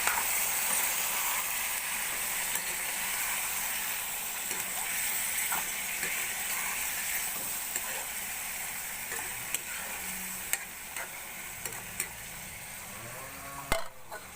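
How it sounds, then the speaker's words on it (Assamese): Goat meat and onions sizzle steadily in a pan, a continuous loud frying hiss with occasional scraping stirs and clicks near the end, close up and without voices. "এতিয়া মই মাংসখিনি দি দিছোঁ, লৰাই দিম।"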